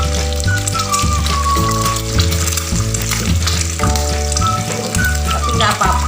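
Egg and eggplant fry in a pan with a loud, continuous sizzle and crackle, close up, while music plays underneath.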